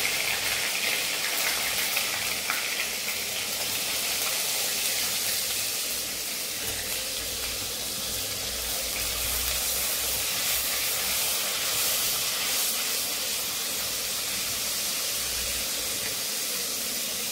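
Water and oil go into a pot of ginger and green chillies, making a loud continuous steamy hiss and sizzle that holds steady throughout without a pause.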